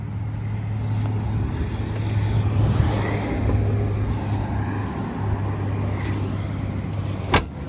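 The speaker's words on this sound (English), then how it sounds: "now we're gonna go for a little drive" A 1987 BMW 325e drives along with a steady engine drone and road rumble heard from inside the cabin, its level even apart from a brief knock near the end.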